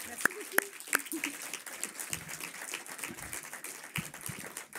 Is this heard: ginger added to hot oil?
no